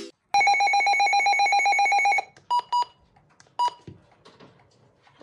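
A Midland HH54VP weather radio sounds its alert tone, a loud steady electronic beep held for about two seconds, followed by two short beeps and a softer one, then quiet handling.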